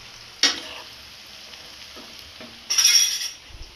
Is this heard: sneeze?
no